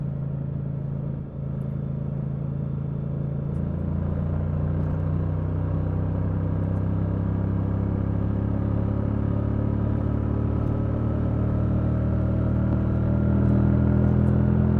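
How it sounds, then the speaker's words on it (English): A Honda Transalp motorcycle accelerates on a street, its engine giving a steady, loud low drone that builds slowly and evenly over the whole stretch with no break. "As you can see, you hit the throttle, it just takes a while."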